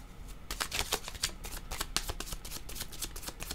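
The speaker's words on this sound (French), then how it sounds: "Attendez, je regarde les cartes, quel je veux prendre." Oracle cards are handled and shuffled close up, producing a steady run of rapid papery flicks and riffles that lasts the whole clip, with no talking.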